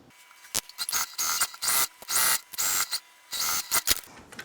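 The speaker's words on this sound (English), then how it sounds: "now we're gonna stitch this together" Sewing machine stitching fabric together for an upcycled Bible cover, running in short bursts of whirring with brief pauses between them, close and fairly loud.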